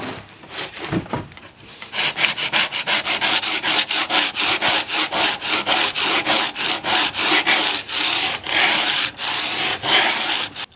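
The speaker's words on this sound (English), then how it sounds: "we're going to go right to the sandpaper and try to get it out of there" A chipped iron from a wooden jack plane is rubbed on sandpaper in steady back-and-forth strokes, a close, rhythmic rasping that repeats many times without pause.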